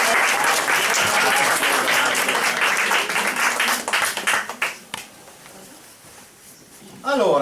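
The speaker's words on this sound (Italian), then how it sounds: "Applausi." Audience applause at an Italian book presentation with the author present, a dense steady round of clapping that fades out around the five-second mark, leaving a quiet room before a voice begins.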